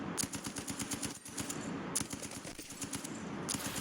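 Rapid automatic gunfire from a weapon at the shooting range in the video game Battlefield, loud dense bursts of shots in two long strings with a brief pause between, no talking.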